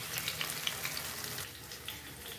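Tofu sizzles steadily while frying in a pan for a coconut-water braised tofu dish, a continuous close crackle of hot oil with no talking.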